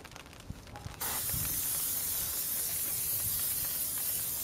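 Lacquer sprayed from an aerosol onto an alloy wheel being refurbished for curb rash: after a second of quiet handling, a loud, steady, close hiss starts abruptly and continues without a break.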